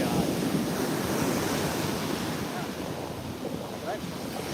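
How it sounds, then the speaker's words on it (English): Stormy surf pounding a South Jersey beach in hurricane conditions, a continuous loud roar of breaking waves and heavy wind buffeting the microphone. "It's windy and it's the waves"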